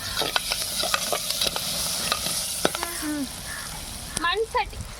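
Curry is stirred in a clay pot over a sizzling flame, with repeated scraping strokes and a soft frying hiss underneath, while a voice talks briefly.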